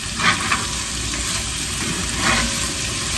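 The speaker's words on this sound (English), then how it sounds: "Now we're going to saute these over medium-high heat until they start to caramelize." Vegetables sautéing in a pan over medium-high heat for a Bolognese sauce, a loud, steady close sizzle with a few brief stirring scrapes.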